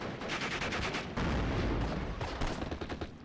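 Video game battle with tanks such as a Panzer B2 and T-30 alongside rifles: rapid, dense bursts of gunfire crackle and thump in overlapping volleys, loud and close, with one heavier blast in the middle.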